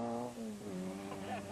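A rapid Mini rally car engine at a forestry rally, its tone shifting as it revs, briefly and somewhat distant beneath a commentator's voice.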